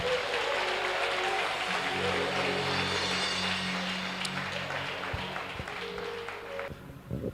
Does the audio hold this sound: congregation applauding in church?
yes